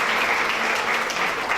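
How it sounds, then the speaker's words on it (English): Loud audience applause for the speakers at the close of an event, dense continuous clapping from a crowd throughout the short burst. "Can we get a round of applause for the speakers?"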